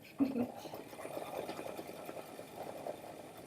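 An embroidery sewing machine stitches out a bumblebee design with a soft, steady mechanical whir. A person talks over the running machine.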